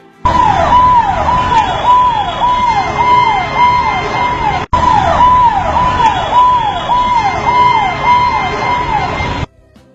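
An ambulance siren wails loudly and close by in rapid rising-and-falling cycles, cut off for an instant midway, then continuing before stopping abruptly.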